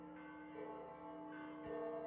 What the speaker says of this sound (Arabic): وها نحن نسمع أجراس كنيسة القيامة